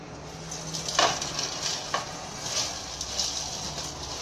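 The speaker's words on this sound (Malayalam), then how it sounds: "അപ്പൊ ഇനി ഇതെല്ലാം കൂടെ ഒരുമിച്ച് നമുക്ക് മിക്സ് ചെയ്യാം" A fried homemade snack mixture with crushed fried sev is stirred together, giving a close, dry rustling and scraping with a couple of louder stirring strokes and no talking.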